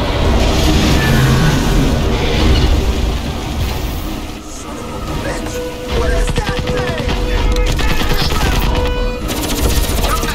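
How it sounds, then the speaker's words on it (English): Sustained machine gun suppressing fire in the shooter game Crysis Remastered, rapid dense bursts rattling on and off over rumbling engine noise and music, loud and close. "I'll lay down suppressing fire till you're airborne!"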